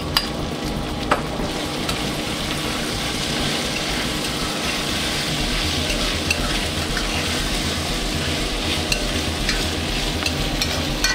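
Seeded, chopped jalapeños go into a pan of frying onions and spices, giving a steady, close sizzle with scraping stir strokes that carries on without pause and with no talking.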